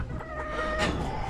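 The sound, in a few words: roosters clucking and crowing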